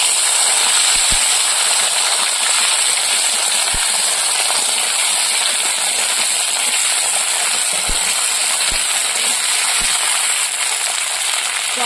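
Mixed vegetables dropped into hot oil with five-spice seeds for a Bengali panch mishali sabji, giving a loud, steady broadband sizzle and hiss with a few sharp clinks scattered through.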